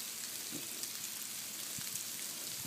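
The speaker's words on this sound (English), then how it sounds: "Now it appears that we are just getting hail." Hail falling in Virginia during a spring storm, a steady fine patter of small ice pieces hitting surfaces, soft and continuous, with a sharper knock right at the end.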